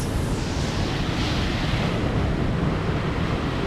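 Waves break on a secluded beach in Sri Lanka, a loud, continuous rushing wash of surf mixed with wind buffeting the microphone and no voices.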